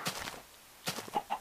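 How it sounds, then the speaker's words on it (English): Blocky Minecraft chickens give a few short, faint clucks spaced apart, with quiet gaps between them and no talking over them. "Oh, I hear a chicken."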